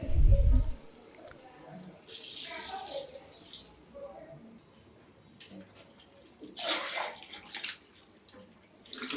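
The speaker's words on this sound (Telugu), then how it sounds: "ఒక నేను రెండు లీటర్ల దాకా నీళ్ళు పోసుకున్నా" About two litres of water splash and gush into a pot of country chicken curry in a few bursts, with a voice talking quietly between them.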